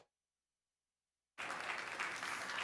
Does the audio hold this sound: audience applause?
yes